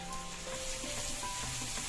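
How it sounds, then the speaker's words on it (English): Curry leaves crackle and sizzle in hot oil in a steady, close hiss, joined by light stirring sounds, with no talk. "I am adding curry leaves"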